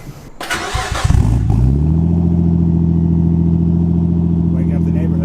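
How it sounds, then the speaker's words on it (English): An RB25 car engine cranks and fires up with a sharp roar, then settles into a loud, steady, rumbling idle through the exhaust. "Everybody loves an exhaust startup."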